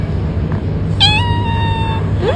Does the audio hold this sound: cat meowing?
yes